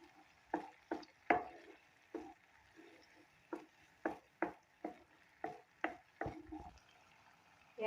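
Onion and garlic paste frying in oil in a pan gives off a faint sizzle. Regular close scraping strokes of stirring run through it in a steady rhythm, with no talk.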